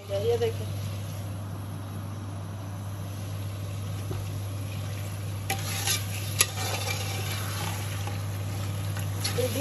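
A spoon stirs bhindi gosht, okra and lamb, in a pot, giving a steady low sizzle with occasional scraping clinks, under a constant hum, with a voice talking at times.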